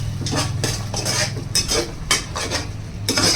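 Vegetable manchurian balls are stirred through thick sauce in a pan, with repeated scraping strokes and soft clinks in an even rhythm over a low background sizzle, close and fairly loud.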